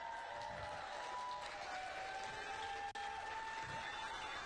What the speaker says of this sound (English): Give Melissa a round of applause.